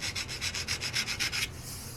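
Quick, even hand-sanding strokes, about ten in a row, rub over the corner of a Dell computer case, soft and close, then stop, leaving a faint hiss.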